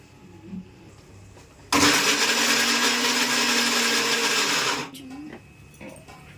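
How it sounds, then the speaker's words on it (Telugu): A mixer grinder blending coconut pieces into coconut milk, a loud steady whirring motor running for about three seconds alone before stopping, with faint clatter around it. "ఇలా తీసి ఇలా మిక్సీ పట్టుకోవాలి మెత్తగా మేఘల్లో వచ్చేటట్టు"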